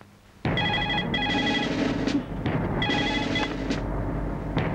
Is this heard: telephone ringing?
yes